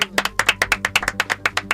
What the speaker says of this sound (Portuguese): Palmas pro Vini!